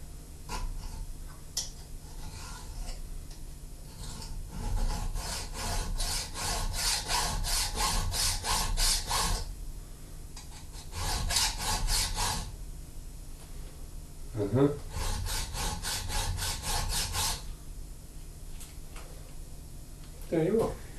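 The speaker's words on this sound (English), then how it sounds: "Take a round file." A round file works wood in rhythmic bursts of rasping back-and-forth strokes, close and fairly loud, with pauses between sets, and a person talks in between.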